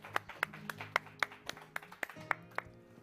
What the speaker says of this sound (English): Let's get a round of applause, ladies and gentlemen.